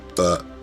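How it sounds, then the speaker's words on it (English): One short, loud, close burp from a man, voiced and rumbling for a fraction of a second before stopping. "Oh my god, I can't stop burping."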